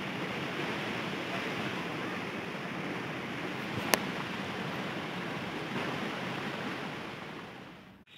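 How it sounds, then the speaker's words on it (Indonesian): The Benang Setokel waterfall roars in a steady, broad, unbroken rush that fills the whole clip at close range, with no voices. "Ini dia air terjun Benang Setokalnya."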